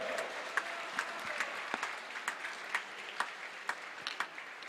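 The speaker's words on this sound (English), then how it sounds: "Can we have a big round of applause again for the winner?" An audience at a squash championship gives a round of applause for the match winner, with steady clapping and scattered louder claps heard from a moderate distance, with no talk over it.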